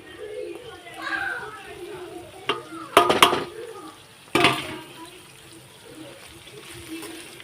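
Ground spice masala being stirred into frying ivy gourd in a pan, a soft, low sizzle with sharp scraping clatters of a spoon against the pan in a few bursts, close up, with someone talking and children's voices in the background.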